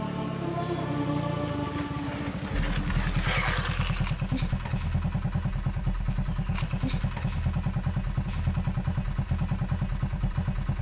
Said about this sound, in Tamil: ரோடு மட்டும் இல்லை பிரியா, பொதுவா 2 பேர் பைக்ல போகும்போது பின்னாடி இவ்வளோ கேப் விட்டு உட்காந்தா பேலன்ஸ் கிடைக்காது.